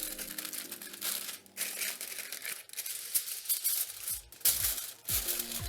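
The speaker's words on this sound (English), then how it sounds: "add enough sheets of aluminium foil to keep all that liquid inside" Aluminium foil crinkles and crumples close by in bursts as sheets are pressed around a leg of lamb in a roasting dish, with brief pauses between handfuls and no talking.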